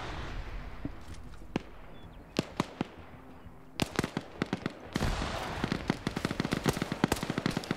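Machine gun fire rattles in a PvP video game, a 240 or 249 opening barrage heard as scattered sharp shots that build into dense rapid bursts, loud and close.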